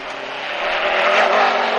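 A rally car in the Dakar race roars up from behind, a loud close engine and tire rush that swells steadily over under two seconds with no voices.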